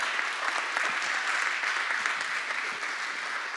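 A round of applause at a commission meeting, steady hall-wide clapping from an audience at moderate level, continuous for a few seconds with no talking over it.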